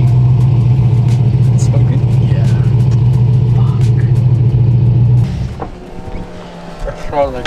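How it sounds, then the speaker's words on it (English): A Chevrolet Corvette C6 spins its racing slicks and burns rubber: a loud, steady engine drone holds for about five seconds and then cuts off sharply, followed by quieter rumbling and scraping noises. "It's burning through that rubber."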